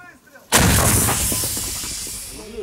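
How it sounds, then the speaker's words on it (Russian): A single heavy blast from a self-propelled artillery gun booms out after a brief quiet moment, followed by a long rumbling echo that slowly fades, in Dokuchaievsk. "Выстрел! Орудие! Выстрел!"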